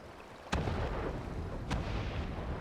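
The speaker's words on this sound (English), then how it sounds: "Oh, seems like explosions are happening." Two heavy booms go off about a second apart over a dense, rumbling wall of noise, like distant explosions in a chaotic battle, in Final Fantasy XIV.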